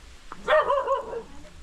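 A dog gives a single short bark, then a yelping, wavering vocalization trailing off, at a moderate distance in a quiet setting.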